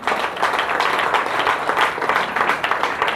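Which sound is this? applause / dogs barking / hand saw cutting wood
applause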